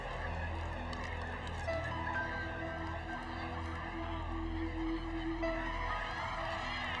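Geese honking on a golf course, a dense, continuous flock of calls at moderate distance under a low background hum, with no talking.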